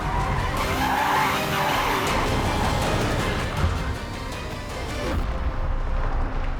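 A Rimac Nevera electric hypercar slides with its tires skidding and squealing on tarmac, a loud sustained rasping screech with a faint whining motor and no engine roar.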